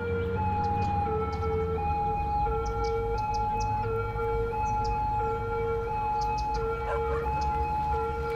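A regular police car siren from the city-building game Cities Skylines wails continuously and steadily, with sustained rising and falling tones over a dense in-game city ambience, with no talking.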